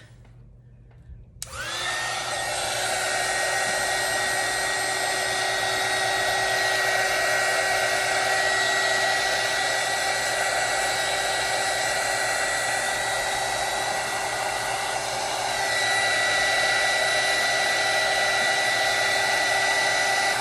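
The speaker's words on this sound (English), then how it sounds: "I'm just going to take my heat gun" A heat gun's loud, steady blower roar switches on after a moment of quiet and runs continuously nearby with a high whine.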